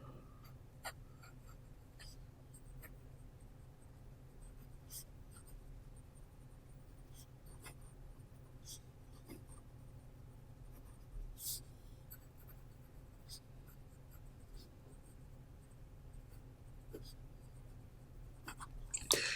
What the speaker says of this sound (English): So, quick writing sample.